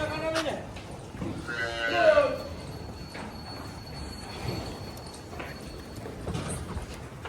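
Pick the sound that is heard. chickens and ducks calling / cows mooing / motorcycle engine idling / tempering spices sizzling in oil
cows mooing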